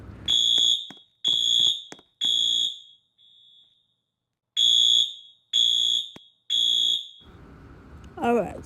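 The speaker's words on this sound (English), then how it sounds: "we still gotta turn off the alarm" A building fire alarm in the Roblox game Liberty County rings in loud, piercing electronic bursts, three, a pause, then three more, followed by a brief electronic chirp.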